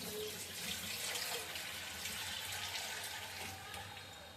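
Water pours steadily into a pan of chicken curry to make the gravy, a continuous close splashing flow lasting several seconds with no voices over it.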